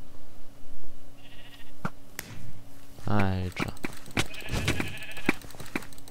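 Sheep bleating in the Minecraft video game, a few short bleats mixed with game sound effects and clicks, with a voice speaking briefly in the middle.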